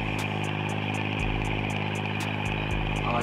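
An IMT 549 tractor in a farming video game on a forest road, its engine running in a steady, even drone with faint periodic ticking, no talk over it.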